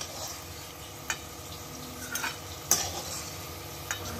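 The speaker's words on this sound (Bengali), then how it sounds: "ওই তেলের মধ্যেই আমি এবার কুচনো চাল কুমড়োটা ছেড়ে দিলাম।" Chopped ash gourd frying in oil in a pan with panch phoron, a soft continuous sizzle with a few light clinks of a stirring utensil.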